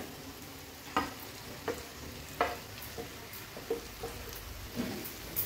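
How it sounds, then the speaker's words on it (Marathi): Ground soya chunks are sautéed over high flame in tomato masala for an Agri-Koli style thali, with a soft steady sizzle punctuated by regular spatula scrapes and taps in the pan. "हाय फ्लेमवर व्यवस्थित मसाल्यांमध्ये हे परतून घ्यायचे"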